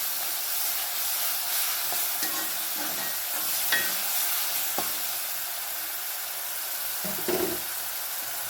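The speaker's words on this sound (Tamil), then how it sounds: "நல்லா வதங்கட்டும். வதங்கிறதுக்கு கொஞ்சமாக உப்பு போட்டுக்கோங்க." Small onions with a little salt sautéing in a pan for chicken gravy, a soft continuous sizzle with occasional stirring scrapes and light clinks, fairly close and with no talk.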